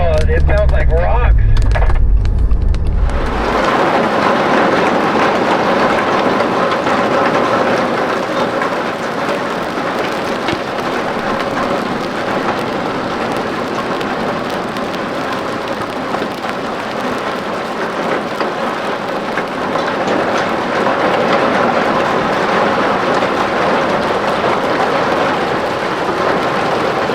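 Hail pelts a vehicle during a mountain drive, a sudden dense, loud rattling roar that starts a few seconds in and drums steadily on the body and roof without letup.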